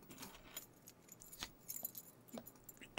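A bunch of keys jangles in short bursts on a quiet night at a school, with metallic clinks scattered across a few seconds and a louder rattle at the end; no one speaks.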